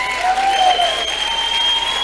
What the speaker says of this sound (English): Thank you for cheering